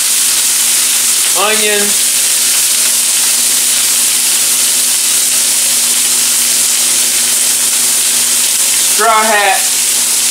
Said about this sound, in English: Now I'm just going to throw a little water in here. Create steam